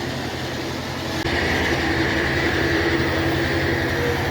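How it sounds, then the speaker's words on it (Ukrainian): The vacuum unit on an MZhT-6 tank trailer, converted for firefighting, runs with a loud, steady mechanical drone and a rapid rhythmic pulsing that steps up slightly in intensity partway through, with no talk over it. "Значить, Вакуумна установка. Працює, розвідження є."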